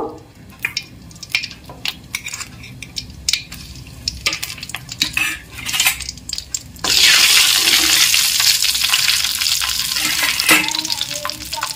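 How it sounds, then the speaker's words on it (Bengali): Cauliflower florets frying in hot oil seasoned with salt and turmeric, a steady loud sizzle that swells into a dense hiss partway through, with scattered stirring clatter. "এবার ফুলকপি ভেজে নেওয়ার জন্য একটু তেলের মধ্যে নুন আর হলুদ মিশিয়ে নেব"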